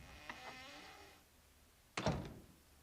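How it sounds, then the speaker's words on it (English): A door opens in the MazM Dr Jekyll and Mr Hyde game, one short solid thunk of wood heard alone after a quiet stretch with faint background tones. "I'll open the door."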